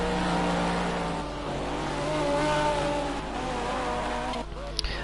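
A GT3 race car engine during a qualifying session at a track, a sustained loud drone that rises and falls steadily as the car accelerates, with commentary speech running over it.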